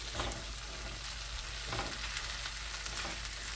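Chorizo sizzles steadily in a hot pan, a dense, close crackle with faint stirring scrapes and no voices.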